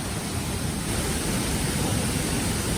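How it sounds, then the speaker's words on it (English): Killen Falls near Byron Bay pours into a rock pool, a dense continuous roar of falling water, close and steady throughout with no talk. "Look, everyone's bathing in the waterfall."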